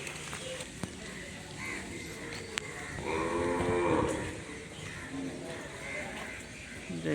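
Calves at a large dairy farm moo in a drawn-out, nearby call that peaks midway, over a steady low background of barn noise with a few brief knocks.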